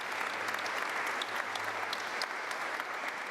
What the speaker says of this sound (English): can I have a round of applause for panellists